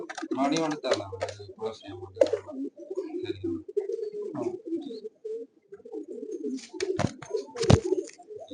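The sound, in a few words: pigeons cooing in a loft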